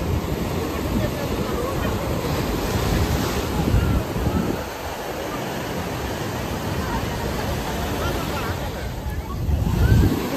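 Ocean surf at high tide on Kundalam beach in Goa, a loud, continuous roar of breaking waves mixed with heavy wind buffeting the microphone, with swells near the start and end.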